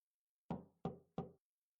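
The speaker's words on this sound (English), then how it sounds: "I knocked without moving my arms." Three crisp knocks on a door in the video game Trails of Cold Steel, evenly spaced and close, each with a short hollow decay, alone against silence.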